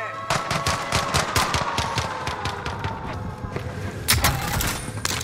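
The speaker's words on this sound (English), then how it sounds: "He's shooting from the other side, over the top road." Rapid video-game gunfire in a multiplayer shooter, bursts of automatic shots crackling steadily through the whole stretch and growing louder near the end.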